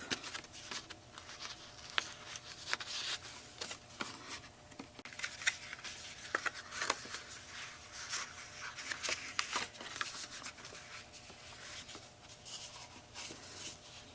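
Paper pieces being peeled off while crafting a gift box with an envelope punch board, heard as soft crinkly peeling and rustling scrapes in irregular bursts, close and quiet, with no talk.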